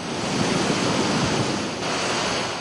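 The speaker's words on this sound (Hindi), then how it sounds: "यहां भागीरथी उफान पर है और अपना रास्ता छोड़कर गांवों और मकानों के बीच से बह रही है" Floodwater of the swollen Bhagirathi river in Uttarkashi rushes through villages and between houses after a cloudburst and heavy rain, a loud, continuous broadband roar with no break.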